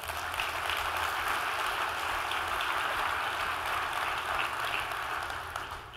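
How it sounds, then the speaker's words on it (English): A large audience at the DrupalCon Seattle 2019 keynote applauds, producing a broad, even, rain-like wash of clapping that stays steady for several seconds and eases slightly at the end. "so also let's give them an applause as well."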